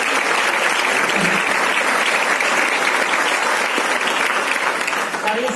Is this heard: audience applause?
yes